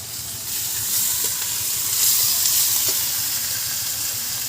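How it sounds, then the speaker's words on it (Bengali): Garlic paste dropped into hot oil alongside green chillies for a Bengali country chicken curry, giving a steady, close, broadband sizzle and hiss that holds evenly throughout with no talking. "এবার দেবো রসুন বাটা"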